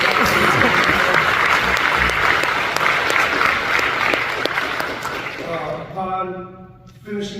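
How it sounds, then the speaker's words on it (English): An audience at a cadet team leader and staff briefing claps in a dense, loud burst of applause that gradually thins out and ends, with voices emerging near the end. "Give them a round of applause."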